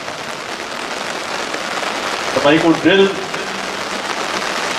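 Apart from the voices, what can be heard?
rain falling during an outdoor military parade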